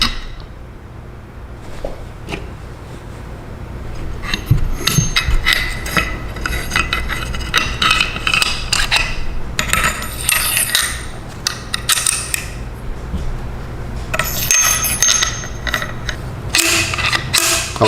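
Metal parts of an HDM 1050 Protector being taken apart, with clinks, scrapes and small mechanical clicks as the load piston and spring are swapped, close and intermittent throughout.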